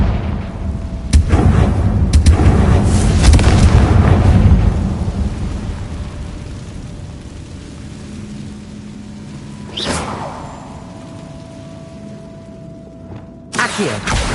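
A heavy, rumbling blast from the Confringo explosive spell in Hogwarts Legacy, a loud booming roar that swells and slowly decays, followed by two sharper bursts later on.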